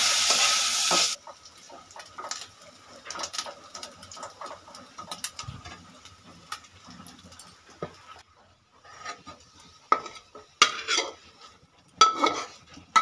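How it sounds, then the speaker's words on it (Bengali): Cashews, raisins and grated coconut fry together in a pan, a steady sizzle broken by scraping stirs and the clink of a spatula against metal, close and fairly loud. "কাজু আর কিশমিশ গুলো একসঙ্গে ভেজে নিচ্ছি"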